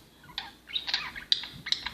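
A pet bird gives several short, bright chirps in quick bursts, close and fairly soft, with no one talking in between.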